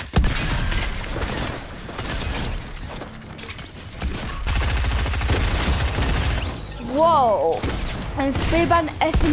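Gunfire from an SMG, an assault rifle and a shotgun in a Fortnite match, heard as dense, continuous bursts of shots layered with game effects and music, loud and sustained throughout.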